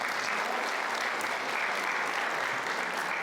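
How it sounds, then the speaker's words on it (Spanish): An audience at a music lecture gives a student a sustained round of applause, many hands clapping in a thick, even roar at steady loudness throughout. "Quisiera pedir un aplauso a Benjamín"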